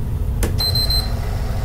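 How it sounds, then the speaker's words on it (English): A single sharp electronic beep tone from an eject button, high and clear, sounding once briefly over a low steady background hum. "normally it would make 3 beeps when you press the eject button"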